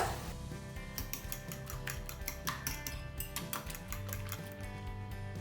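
Eggs with salt and pepper being beaten for an omelette in a bowl, a rapid steady clatter of utensil against the bowl continuing throughout, fairly close.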